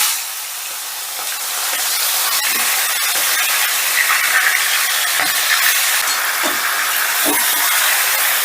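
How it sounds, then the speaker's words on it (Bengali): Chicken frying in hot oil left over from frying potatoes, a loud, steady, spray-like hiss that fills the whole span, with a few soft knocks breaking through. "এবারে ওই আলু ভাজার তেলে চিকেনটাও ভেজে নেব।"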